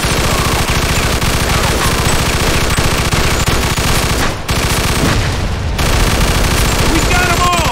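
Sustained machine gun fire from a gunfight in the video game Mafia II rattles in dense, rapid bursts, loud and close, with a couple of brief pauses and faint voices beneath the barrage.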